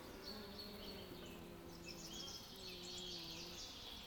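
A big honeybee drone buzzes steadily inside a swarm cone trap, a close, continuous drone among the hum of other bees, with no talking.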